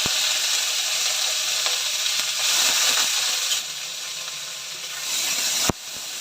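Onion paste sizzling loudly in hot oil with whole garam masala, cardamom and cinnamon for pulao, a close, steady frying hiss with a sharp clatter near the end.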